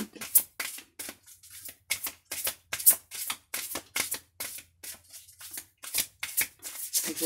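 A deck of cards is shuffled by hand in rapid repeated riffles and snaps, close and crisp, with short pauses between bursts and no talk.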